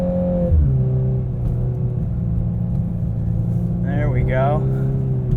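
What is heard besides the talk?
2022 Volkswagen Golf R DSG sliding on snow with winter tires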